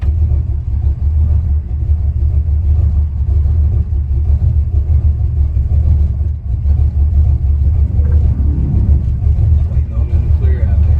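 Steady, loud low-pitched rumble from a 1962 Chevrolet Impala SS V8 engine as the car drives on the road, with a slight rise in revs near the end and no clear voices over it.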